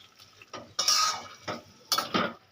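Utensil stirring taro leaves (kochu shak) in an open pan, a few separate scraping clinks of metal against the pan, near and fairly clear, with soft cooking hiss between.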